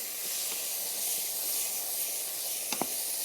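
Taco filling hisses loudly and steadily in a hot pan as it is stirred, a continuous close sizzle broken by a couple of quick scraping clicks near the end.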